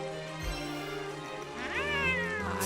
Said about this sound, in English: Oh, hey, one of our cat friends.